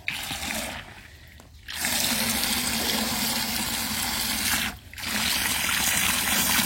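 Water pours steadily into a container to soak the fresh potting medium of an aglaonema plant, a loud, close splashing stream that breaks off twice for a moment and then resumes.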